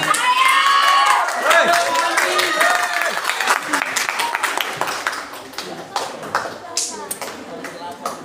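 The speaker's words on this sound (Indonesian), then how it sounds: "Silahkan beri tepuk tangan buat para 4 peserta kita." An audience at an elementary school quiz competition final in Merauke applauds four contestants with a loud spread of clapping and some cheering, thinning out over several seconds as voices carry on beneath it.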